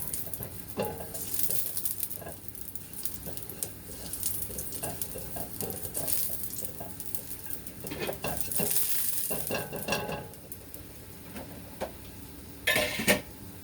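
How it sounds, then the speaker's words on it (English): Sliced ginger sizzles in hot oil in a pan during Hong Kong home cooking, with a steady crackling fry and scraping stirring strokes throughout. "fry the ginger for a moment"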